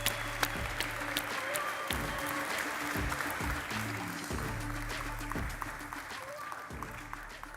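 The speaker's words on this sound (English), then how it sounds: "Let's give him a round of applause." An audience at a tech conference talk on React inline visual editing applauds the speaker, with continuous crowd clapping that stays fairly even and fades slightly toward the end, over a low background hum.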